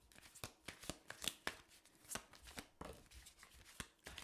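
Tarot cards are shuffled by hand in a quick run of crisp riffling snaps and flicks, close and fairly quiet, with short pauses between bursts and no talk.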